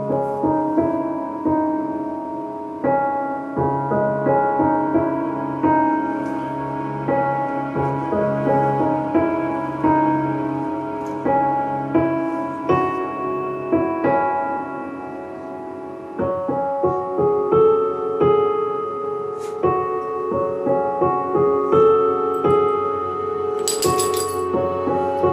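A full multitrack song with strings, drums and other instruments playing together, steady and fairly loud throughout with layered sustained tones and regular percussive hits, a brief bright rattle near the end.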